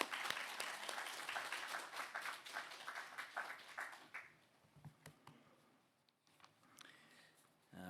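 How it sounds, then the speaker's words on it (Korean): A church congregation at a Sunday worship service claps to welcome the pastor, a lively burst of many hands that tapers off after about four seconds into quieter room sounds and a few scattered taps. "우리 목사님 나오실 때 우리 박수로 한번 환영하시겠습니다."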